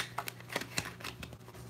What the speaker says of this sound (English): So I had to shuffle a little bit more.